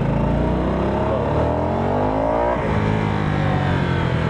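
A Harley-Davidson motorcycle engine revs up and down with rising and falling pitch, continuous and loud, heard up close while riding.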